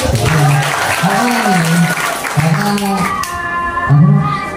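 Audience applause at a live Ramadan hospital event, moderately loud, with voices talking over it and the clapping thinning toward the end.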